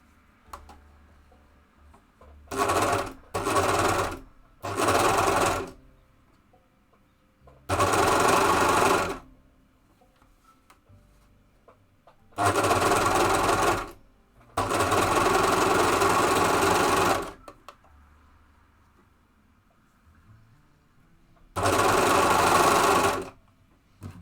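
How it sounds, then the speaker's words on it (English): Sewing machine stitching a pair of shorts, loud droning whirs in about seven bursts of one to three seconds each, separated by near silence, close to the microphone. "Yeah, that is quite loud. And since, you know, I am quite fast at sewing, when you're going a lot faster, it gets a lot louder as well."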